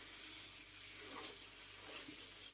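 Water sprinkled over a vegetable garden on a hot day, a steady, even rush of falling water, close and continuous until it cuts off abruptly.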